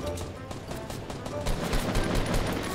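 Rapid bursts of automatic gunfire in Fortnite, dense and continuous with overlapping shots throughout, loud and close.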